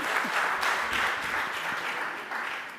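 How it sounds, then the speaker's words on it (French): A conference audience at a panel on rural social renewal breaks into sustained, even applause, a dense wash of many hands clapping at moderate distance with no talking over it. "on peut applaudir"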